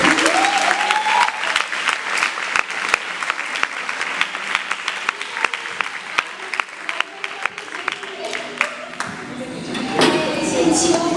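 An audience at a church sermon breaks into sustained applause. The clapping is dense and steady for about ten seconds, with a few crowd voices mixed in near the end.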